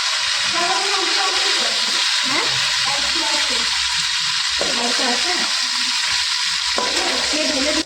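Rice fries in oil for a Bengali muri ghonto with rohu fish head, making a steady, close sizzle with faint low sounds underneath that may be a murmuring voice.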